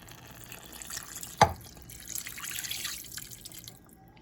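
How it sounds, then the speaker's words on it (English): Water poured from a cup into a cooking pot of smothered turkey wings, heard as a brief splash followed by soft trickling and sloshing, faint and close, with no talk. "I'm gonna put some water in here."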